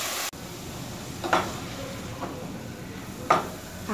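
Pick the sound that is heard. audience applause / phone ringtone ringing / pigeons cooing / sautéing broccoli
sautéing broccoli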